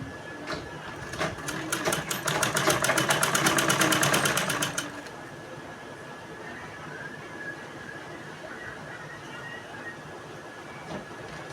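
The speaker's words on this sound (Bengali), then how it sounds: "দেখুন আমি কিভাবে আমার সেলাইটা করে নিচ্ছি" Domestic sewing machine stitching a baby dress, a fast steady run of needle strokes for a few seconds that then stops, leaving quiet room tone.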